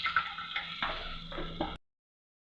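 Turmeric powder going into a frying pan for aloo pulao and being stirred: steady sizzling frying with scraping stirs for under two seconds, then silence and a brief final clatter.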